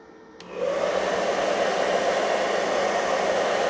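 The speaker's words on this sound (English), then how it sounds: "Let's plug in a hair dryer and turn that on." A hair dryer, powered by an EcoFlow Delta Pro portable power station, switches on after a brief quiet moment and runs on low with a steady, loud whooshing roar that stays even throughout.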